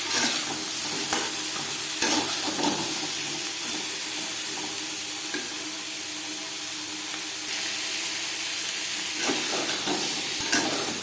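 Steady, loud sizzling of pointed gourd with turmeric and salt frying in hot oil, with occasional stirring scrapes and crackles throughout.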